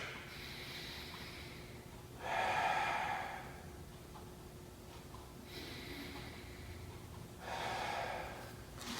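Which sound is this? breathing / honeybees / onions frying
breathing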